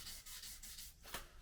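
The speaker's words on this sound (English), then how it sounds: "Give the frets a final polish." Fret polishing on a Telecaster build: a quiet, close rubbing with rhythmic back-and-forth strokes, faint and steady with no voices.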